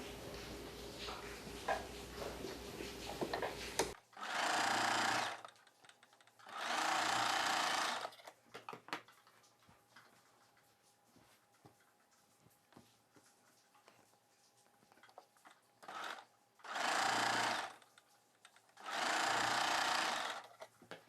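A sewing machine runs in four short bursts of a few seconds each while joining the shoulder seams of a cross-cut blouse. Each burst is a loud, steady whir, and quiet pauses fall between them.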